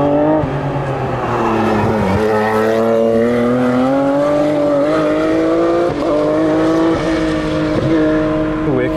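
A Porsche GT3 Cup rally car runs close by, its engine note rising and falling loudly with gear changes over about nine seconds, dominating the scene.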